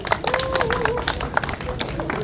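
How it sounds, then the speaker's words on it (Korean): Audience applause at an outdoor memorial rally, a dense, steady patter of many hands clapping together, with a voice and crowd noise mixed in. "모두를 위해서 박수를 한번 쳐주시겠습니다"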